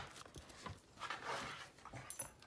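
A pet dog whimpers and pants nearby, soft high whines rising and falling in short bursts, quiet and alone.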